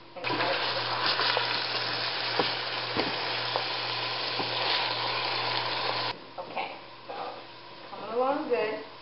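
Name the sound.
Italian sausage frying in a pot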